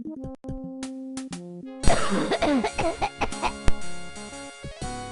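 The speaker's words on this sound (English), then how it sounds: "Just wait until the next cough." A burst of harsh coughing from a video game character, several quick rasping hacks, plays over steady electronic tones and musical sounds.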